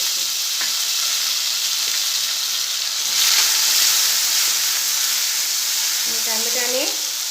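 Chopped tomatoes fry in hot oil seasoned with asafoetida in a pan for Gujarati pani dhokli, giving a steady, close, continuous sizzle that swells briefly midway, with a short voice near the end.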